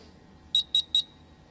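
A quiz buzzer at a live school quiz final sounds three short, sharp electronic beeps in quick even succession, loud and clear over a quiet room hum, the last beep trailing into a brief fading tone.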